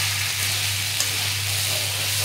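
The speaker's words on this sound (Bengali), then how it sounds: "এখন ঢাকনা খুলে নাড়িয়ে চাড়িয়ে নিলাম। চিকেনটা এবার কষিয়ে নিচ্ছি।" Chicken kosha frying in a pan gives a dense, even sizzle over a low steady hum, close and continuous with no voices.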